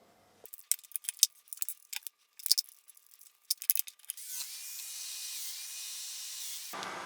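A Festool Domino joiner cuts 10mm oval holes in wood, first with short scattered clicks and clatters from the tool, then a steady whirring hiss of the running cutter, close and fairly quiet.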